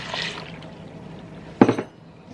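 Water poured into a cooking pot while preparing white kidney beans, a soft, faint trickle at first, followed by a sharper clink and splash near the end.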